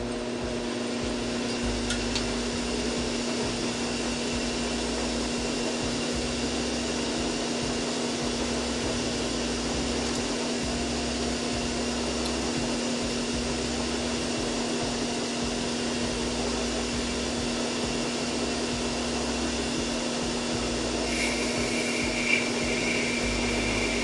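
A metal lathe cuts a taper on a brass scribe, giving a steady, close machine whine and hum that runs unbroken, with a faint rubbing edge from the cut throughout.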